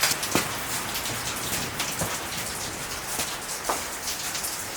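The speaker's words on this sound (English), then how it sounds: "it's getting a little too rainy, and like little parts there's like water coming through it" Steady rain falls outside, a dense hiss of drops with occasional louder splats against nearby surfaces, continuous and fairly close, with no voices.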